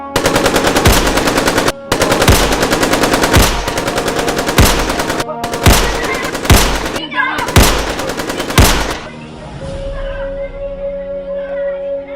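Loud sustained bursts of machine-gun fire from an action scene, several rapid volleys separated by brief gaps, ending in a fading ringing tail.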